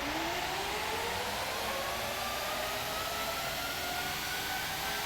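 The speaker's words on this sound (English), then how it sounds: "The sound of those 700 horsepower engines is incredible." Formula One car engines from the PS1 racing game Formula One CE rev at a race start on the grid, a steady loud high-pitched whine rising in pitch throughout with no voices.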